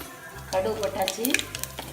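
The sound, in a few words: mustard seeds sizzling and popping in hot oil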